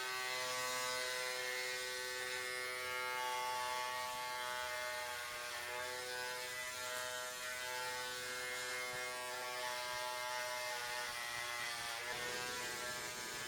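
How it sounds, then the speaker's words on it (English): A Philips Norelco QC5550 hair clipper runs close by with a continuous buzzing whir full of tight harmonic overtones. Its tone shifts slightly as it moves through hair, and no speech is heard. "The clipper is actually pretty soft. My last one had a pretty rigid clipper on there."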